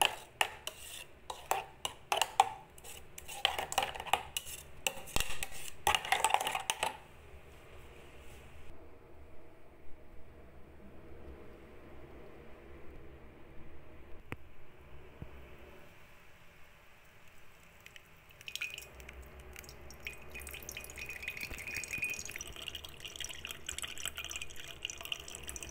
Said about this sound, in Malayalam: ഊണ് കൊണ്ട് നല്ലോണം ഒന്ന് ഇളക്കിയതിന് ശേഷം അരിച്ചെടുക്കാം